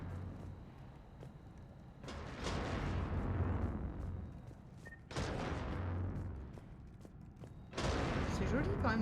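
Cannons fire in the video game Mass Effect 3 as three heavy booming blasts with rumbling tails, spaced a few seconds apart under a low game background.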